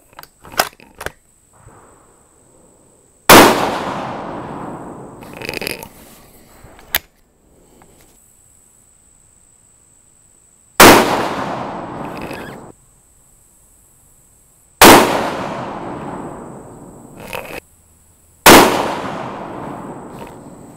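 Four loud, sharp rifle shots from a rifle fitted with a Boyd's Spike Camp stock, each cracking hard and ringing out in a long decaying echo, spaced several seconds apart with quiet between, plus a few small clicks early on.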